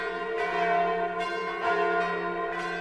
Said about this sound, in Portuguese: o toque dos sinos silenciou o coração de familiares